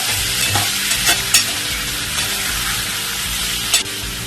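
Sweet potato pieces sizzle in ghee in a pan, a steady close frying hiss broken by several sharp scraping stirs of a spoon.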